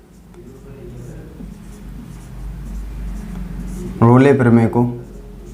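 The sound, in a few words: writing on a board during a math lesson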